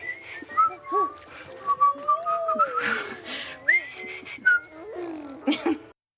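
A person whistles a wandering, tuneful melody with sliding pitches and short pauses, close and fairly loud, ending abruptly.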